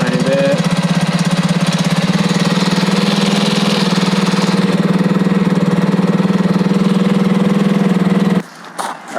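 A Honda CT90 motorcycle engine idles steadily and loudly up close with a fast, even putter, then cuts out abruptly near the end, leaving brief clatter.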